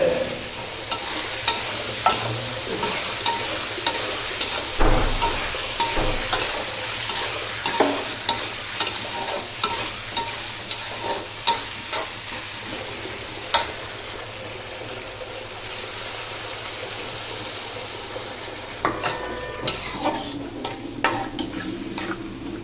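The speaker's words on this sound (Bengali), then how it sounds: "মশলা কষানি শেষ, শিং দিয়ে দিচ্ছি।" Stinging catfish (shing) cooks in fried spice masala for a fish curry: a continuous oily sizzle under repeated rhythmic spatula scrapes and clacks against the pan, a louder knock near the start.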